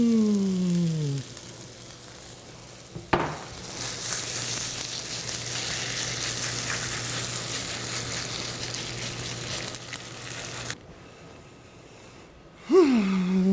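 A Korean scallion chicken pancake hits hot oil in a pan with a sudden sharp sizzle that settles into a steady, loud frying hiss for several seconds, then cuts out abruptly before a brief closing sound.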